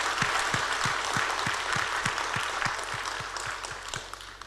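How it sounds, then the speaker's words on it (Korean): A church congregation applauds steadily after a worship service testimony, many hands clapping together in a dense, sustained wash that fades slightly toward the end. "힘차게 박수하겠습니다"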